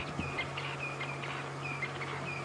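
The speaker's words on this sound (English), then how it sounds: "I can hear a francolin." A francolin calls repeatedly at a steady distance over a constant low hum and background noise, with no talking, at sunset on an African safari drive.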